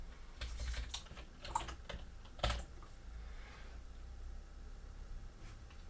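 Quiet typing on a computer keyboard while coding in Emacs and Python, with scattered soft clicks and a few sharper keystrokes through a low background hum.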